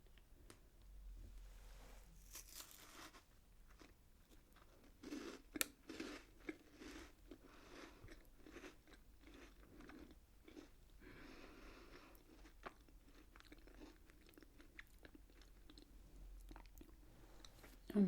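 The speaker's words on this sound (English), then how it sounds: "I'm gonna have to have a taste when I have the crunch." A chocolate biscuit is crunched and chewed up close in quiet surroundings, with soft, irregular bites and mouth sounds at low level and no talking.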